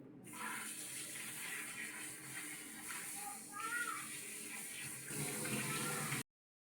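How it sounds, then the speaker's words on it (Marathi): Peeled ambade (hog plums) rinsed in a kitchen sink, with steady running tap water and splashing that holds for about six seconds before cutting off abruptly. "आता याला वॉश करून घेऊया आपण एकदा."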